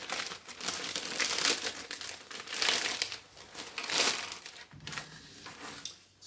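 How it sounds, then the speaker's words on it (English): A plastic Ziploc bag is opened and handled, giving close, loud crinkling and rustling in several bursts with brief pauses between. "take out a bag, Ziploc bag, just a regular Ziploc bag"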